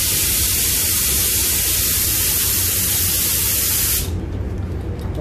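Spray gun loaded with Spies Hecker car paint, fitted with a 1.2 nozzle, blasting a loud, steady hiss of spraying that cuts off near the end, leaving a quieter background hum.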